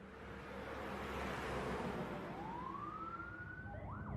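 Police car and ambulance sirens rush toward a house, a rising wail sweeping upward over heavy rumbling traffic noise, growing louder and closer across the stretch without any voices.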